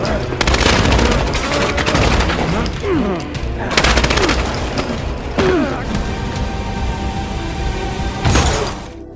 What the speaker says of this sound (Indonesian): namun ternyata langsung disambut dengan tembakan dari Glenn.